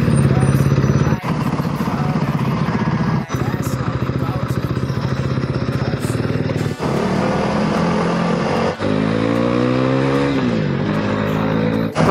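A motorcycle rides along a bumpy, poorly paved road toward Bellagio near Madonna del Ghisallo, its engine droning close and loud with gear changes and rising revs, while people talk over it.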